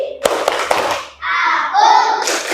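Children in a classroom doing the tepuk konsentrasi rhythmic clapping game, a few sharp claps at the start followed by children chanting together loudly.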